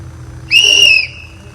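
One short, shrill blast from a cheap plastic whistle, loud and close, lasting about half a second.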